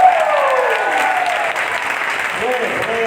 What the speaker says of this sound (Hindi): थोड़ी तालियां जोरदार नहीं होनी चाहिए?